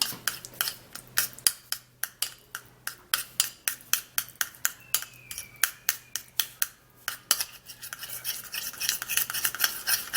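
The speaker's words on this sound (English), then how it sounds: "we're gonna be taking a spoonful of shea butter, and then we're going to mix it into this" Spoon stirring shea butter into a mixture in a bowl, with a fast run of close, sharp scraping clicks in an even rhythm that blurs into a denser smear of scraping toward the end.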